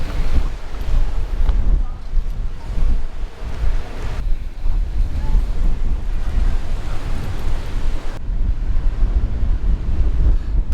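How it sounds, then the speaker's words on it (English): Surf rolls in at Punaluʻu black sand beach in Hawaii, a continuous loud roar of breaking waves with strong wind buffeting the microphone throughout. "Punaluʻu Black Sand Beach Park"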